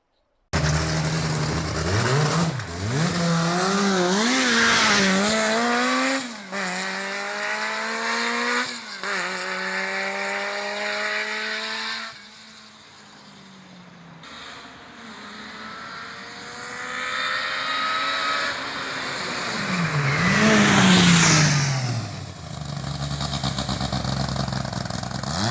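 A Citroën AX Sport accelerates hard on a test drive, its engine revving up through several gears with rising whine and sharp drops at each shift, loud and close, with no talk.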